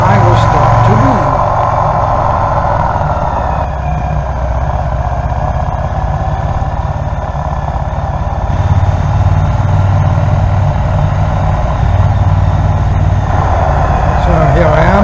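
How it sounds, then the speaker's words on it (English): A Triumph Bonneville T120 motorcycle weaves in second gear at steady low revs through a riding-school exercise, its engine a continuous close rumble with slight swells as the throttle changes, under wind buffeting. "So here I am, weaving in second gear on my Triumph Bonneville T120, braking before the corner"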